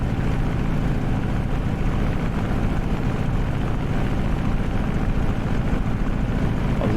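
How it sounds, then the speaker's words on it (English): Hellcat propeller fighter plane coming in to land on a hard runway in a flight game, a loud, steady droning engine hum sustained throughout with no talk. "Prop full. And we're coming in. And we're gonna land on the hard runway."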